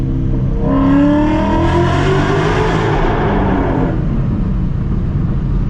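A loud Stage 3 Roush Mustang engine roars and downshifts, pitch sweeping up and down with booming echo as it passes through a tunnel.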